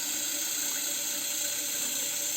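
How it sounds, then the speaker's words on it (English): Water pours steadily into a shaving bowl from a running tap, a constant hissing splash at close range with no talking. "a little bit more water in the bowl for rinsing"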